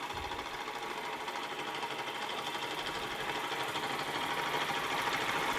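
Mr Power model steam engine with a Wilesco safety valve running quietly, a faint, fast, even chuffing and mechanical rattle that holds steady throughout.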